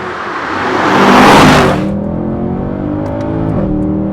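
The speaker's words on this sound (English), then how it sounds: "And though inside sometimes you're not hearing that AMG Sport exhaust, outside, trust me, you're hearing it." Mercedes C63 AMG Edition 507 with AMG sport exhaust, a loud close engine roar swelling to a peak then settling into a steady, deep rumble alone for about four seconds.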